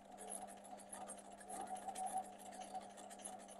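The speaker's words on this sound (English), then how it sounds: "So I'm going to do it pretty slowly so that it's a nice tight satin stitch all the way around the edge." An embroidery sewing machine slowly stitches a tight zigzag satin stitch around an edge on water-soluble stabilizer, giving a faint, steady mechanical hum with a soft rapid needle patter and no talking.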